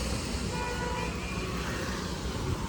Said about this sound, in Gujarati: આ બાજુ વાહનોની બગડાટી બોલે જોયું.